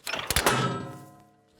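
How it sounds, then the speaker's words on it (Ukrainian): An artillery gun's breech wedge is shut by hand, giving a couple of sharp metallic knocks and then a heavy clunk whose ringing steel tail fades out over about a second. "Далее коман командир командует, что мы готовы, закрывает клин таким вот образом."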